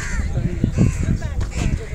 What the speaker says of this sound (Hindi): ये देखो कितने सारे कौवे बैठे हैं।